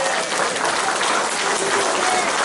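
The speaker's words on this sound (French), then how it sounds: "je vous demande du fond du cœur, applaudissez chaudement, Luc." A crowd applauds warmly at an evening local event, dense steady clapping throughout with a faint voice underneath.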